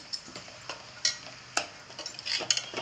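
Cooked vegetables being stirred and mixed in a pan with a utensil, giving a run of light scraping clicks and taps at an irregular pace, close and fairly quiet with a soft sizzle underneath.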